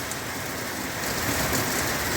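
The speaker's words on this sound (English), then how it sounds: "You can see how hard it's raining." Hard rain falls in a thunderstorm on a street, an unbroken loud roar of drops that swells slightly partway through, with no voices.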